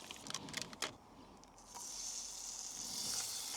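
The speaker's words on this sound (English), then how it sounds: "bacon's sizzling away" Bacon sizzles in a pan with a steady crackling hiss that builds after a few short clatters at the start.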